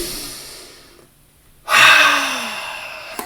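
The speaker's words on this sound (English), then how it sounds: "Let me take a breath." One sharp, loud intake of breath, coming after a brief near-silent pause and then trailing off into a softer exhale.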